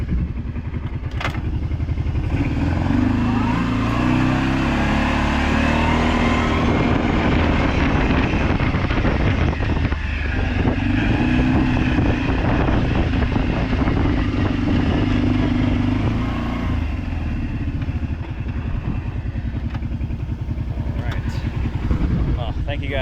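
A Kawasaki Brute Force 650 ATV engine idles steadily nearby with a low, even thrum, accompanied by wind buffeting on the microphone and occasional clatter, while a person talks over it.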